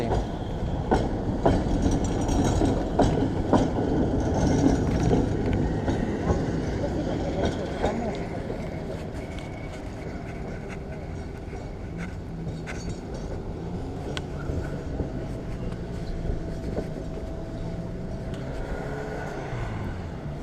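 A number 18 tram in Dnipro, Ukraine, rumbles and rattles past nearby, its steady roar slowly fading, with faint wheel squeal and voices talking underneath.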